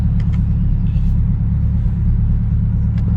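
A Corvette C8 held on the brake for launch control, its engine droning in a loud, steady low rumble throughout with a faint voice briefly behind it.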